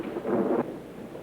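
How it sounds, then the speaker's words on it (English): Thunder from a storm in a 1932 film, a short low rumbling roll lasting about half a second, fairly near, then fading into a quiet background hiss. "Storm's just as bad as ever, isn't it?"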